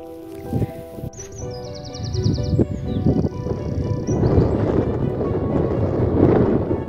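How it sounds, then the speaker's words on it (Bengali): Wind buffeting the microphone on a clifftop near Dunseverick Castle, gusting louder in the second half with a rushing roar; a brief high tone sounds early on. "তো হাওয়া দিচ্ছে দেখো।"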